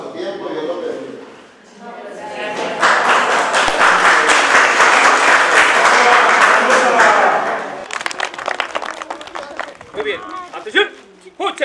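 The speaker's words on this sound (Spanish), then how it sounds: "ese fuerte aplauso que se escuche" An audience breaks into loud, dense applause for about five seconds, preceded by a voice and followed by scattered claps and chatter as the clapping fades.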